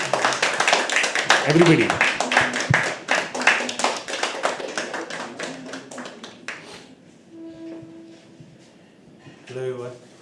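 An audience at a live poetry open mic claps steadily as the next poet walks on stage, a dense run of claps under a host's voice that thins out toward the end, followed by a few voices.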